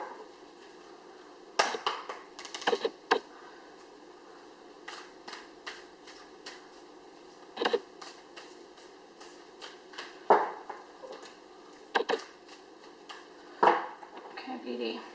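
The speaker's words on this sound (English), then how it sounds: "I'll give these ones a shuffle as well." Tarot cards are shuffled in soft, irregular bursts of papery riffles and taps, fairly close, with long quiet gaps between them.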